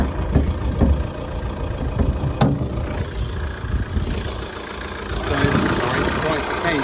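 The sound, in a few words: Vauxhall Astra engine running with bonnet open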